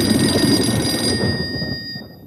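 A telephone in a house rings unanswered, a loud, continuous electronic trill that cuts off near the end, heard alone.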